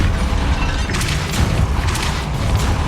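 A Depulso spell cast in Hogwarts Legacy lands with a loud, booming burst amid a dense wash of crashing, clattering game noise that stays heavy and continuous throughout.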